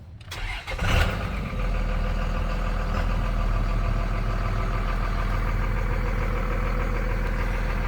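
A 2001 Dodge Ram 2500 Cummins turbo diesel engine cranks briefly and catches, then settles into a steady, loud, rumbling idle close by that continues without pause.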